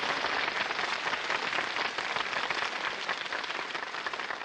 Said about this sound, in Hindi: इन बच्चों के लिए जोरदार तालियां बजाइए प्लीज।